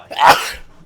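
A single short sneeze burst, close and fairly loud, rising and fading within a second with no talking around it.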